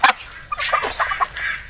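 Native chickens cluck and chatter softly on a small farm, a short burst of overlapping fowl calls at moderate distance.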